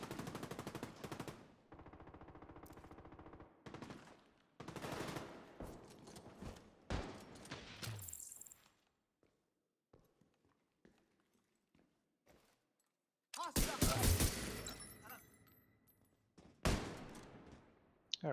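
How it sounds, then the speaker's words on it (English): Video game gunfire with a bolt-action rifle fired from the hip, scattered loud sharp shots and bursts separated by quiet gaps, with a dense cluster of blasts later on and some footstep-like shuffling. "Bolt action hip fire, I guess that works too."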